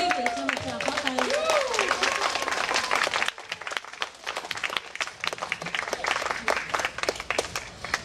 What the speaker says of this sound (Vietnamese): Xin quý vị cho một tràng pháo tay.